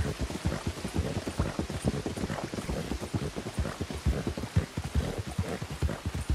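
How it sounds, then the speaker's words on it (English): Steady rain in Red Dead Redemption 2 patters densely and evenly throughout, a constant hiss of drops close by with no voices. "It's raining."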